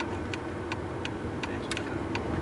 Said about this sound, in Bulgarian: Десния мигач.